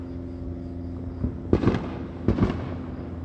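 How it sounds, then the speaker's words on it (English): Fireworks going off in a neighbourhood cul-de-sac, two distinct bursts of crackling pops about a second apart, moderately loud and somewhat distant, over a steady low background hum with no talking. "the cul-de-sac is doing a little bit more with fireworks"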